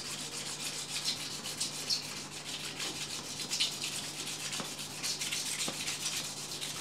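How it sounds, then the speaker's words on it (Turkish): A rusty carbon steel knife blade is sanded with 1200-grit sandpaper in quick short back-and-forth strokes, giving a continuous close scratchy rubbing that stays fairly even throughout. "hiç durmadan şöyle ufak, böyle ufak ve tekrardan bir 1200 zımpara vuralım."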